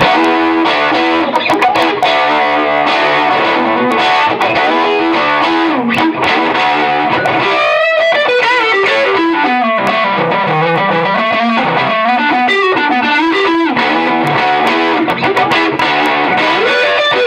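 An electric guitar plays through an Immix Eleven HT-30 amp on the EF86 channel with the volume maxed, giving a loud, thick distorted tone with sustained chords and bending lead lines that never let up.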